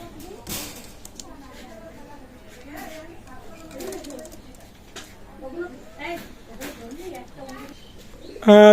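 Soft, repeated coos of Teddy-bloodline pigeons burble throughout at close range, with someone talking over them and a sharp bang near the end.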